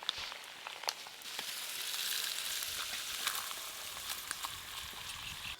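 Melted fish oil pours into a hot pan and sizzles, a steady crackling hiss with sharp pops and spatters, close and fairly quiet, with no voices.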